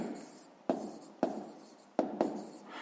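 Pen writing in a school notebook during a sixth-grade maths exercise, soft close scratching strokes with sharp taps as the pen touches down, repeated in short bursts.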